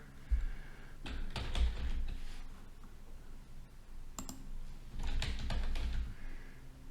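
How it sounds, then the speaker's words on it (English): Keys clatter on a computer keyboard during text entry in Microsoft PowerPoint, close, quiet bursts of rapid clicking separated by short pauses. "I can actually type the text here."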